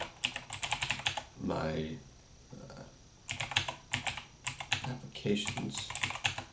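Fingers type on a computer keyboard in quick bursts of clacking keys, with short pauses where someone speaks briefly between bursts.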